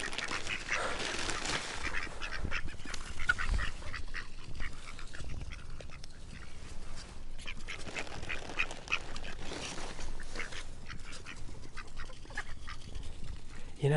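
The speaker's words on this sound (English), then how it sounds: "Stay nice and quiet, ducks." Ducks quack and honk in a park, a busy, noisy cluster of calls layered over steady outdoor background for the whole stretch, with no clear pauses.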